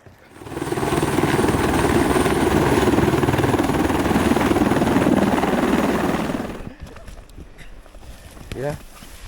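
A helicopter at a remote Newfoundland moose hunting camp roars loud and close with a dense rotor thrum for about six seconds, then quickly fades away, leaving quieter background sounds.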